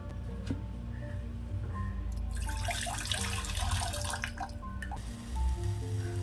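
Hot water is poured in a home kitchen for a drink, a steady splashing pour that swells in the middle and then tapers off, close and fairly quiet with no talking.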